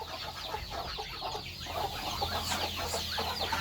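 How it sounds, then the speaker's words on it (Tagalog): Chickens cluck and fuss continuously around a farm house in the Philippines, a dense flock chatter at moderate distance with steady background ambience and no talking. "And we have manok here. Manok."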